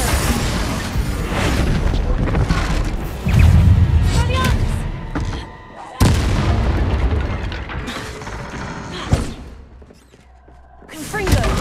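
Confringo fire spell explosions in Hogwarts Legacy, with repeated heavy booming blasts, each landing as a loud impact amid layered combat effects and music, including a sharp strike near the middle and another toward the end.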